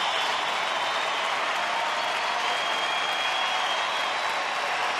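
A baseball stadium crowd in Texas cheers and claps steadily for the Rangers during a tense at-bat, a dense, continuous roar of applause heard from a distance.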